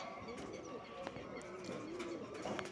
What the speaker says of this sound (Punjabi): ਆ ਉੱਡ ਰਹੇ ਨੇ ਬਾਈ ਆਪਣੇ ਕਬੂਤਰ